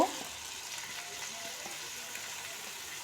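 Barbecue chicken sizzling in a pan as spice masala goes in, a dense, continuous frying hiss close by with light scraping and stirring clicks, nobody talking.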